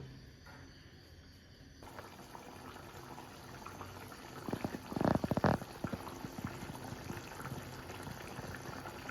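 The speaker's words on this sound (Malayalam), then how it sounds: "തിളച്ച് വന്നിട്ടുണ്ട് നന്നായി തിളച്ച് വന്നിട്ടുണ്ട്" Chicken curry gravy bubbles in a pan, a quiet continuous boil with a brief burst of louder, thick plopping bubbles partway through.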